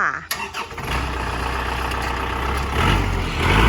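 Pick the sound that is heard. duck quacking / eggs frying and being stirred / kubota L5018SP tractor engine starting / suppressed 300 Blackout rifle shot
kubota L5018SP tractor engine starting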